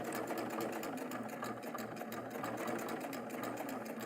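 A Baby Lock Triumph serger stitching along a fabric edge runs in a steady, fast mechanical whir with rapid rhythmic ticking, continuous and close throughout with no pauses.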